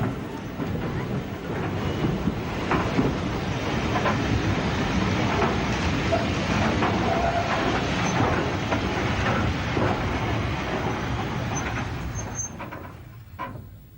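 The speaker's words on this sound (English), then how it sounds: "A push-pull train arrives at the high-level station from 3 bridges" A push-pull train on the Southern Region pulls into the high-level station from Three Bridges at Tunbridge Wells, its wheels and carriages rumbling steadily and close by throughout, with faint squeals near the end.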